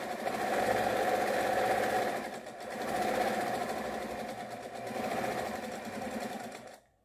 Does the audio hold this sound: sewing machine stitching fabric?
yes